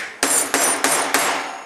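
Four sharp metallic hammer blows flatten a coiled silverware key chain, struck at a steady rhythm close by with brief ringing after each hit.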